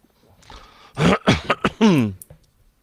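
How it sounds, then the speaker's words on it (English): A few short, sharp coughs in quick succession, close and fairly loud, with a brief throat-clearing rasp and quiet background before and after. "Cough, cough."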